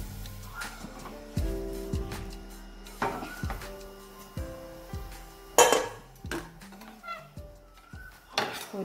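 A pan lifted and flipped over while cooking layered atti pathiri, with several clattering metal knocks and clinks of cookware spread irregularly through a quiet kitchen.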